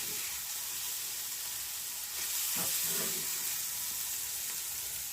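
Mushrooms fry over high heat for a street-food omelette, giving a steady, loud sizzle with stirring and a brief scrape near the middle, no voices.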